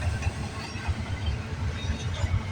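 A CN freight train rolls past at a rail yard area, a steady low rumble with faint rhythmic clatter of wheels throughout, continuous and moderately distant with no voices.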